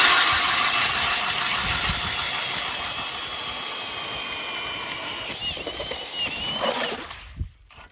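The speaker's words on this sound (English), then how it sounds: "We have to put an extension on our drill to even get through" Loud, steady whine of a gas-powered ice auger drilling through thick lake ice, holding pitch, then wavering and cutting off near the end.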